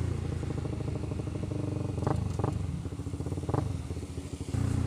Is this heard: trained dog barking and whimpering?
no